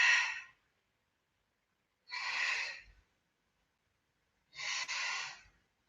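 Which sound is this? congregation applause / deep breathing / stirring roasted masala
deep breathing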